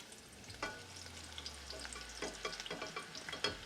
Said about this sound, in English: Let's get those shallots frying.